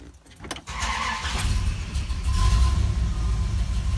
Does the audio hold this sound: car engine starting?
yes